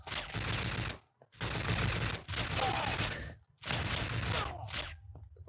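Gunfire from a PSP shooter game played through emulation on a Raspberry Pi 4, rapid bursts of loud automatic shooting in four long volleys separated by brief silent gaps.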